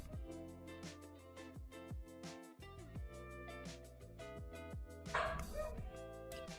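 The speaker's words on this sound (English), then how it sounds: "the dog just won't stop" A dog barks over and over in a steady, relentless run of short, close barks, with no pauses and no voices.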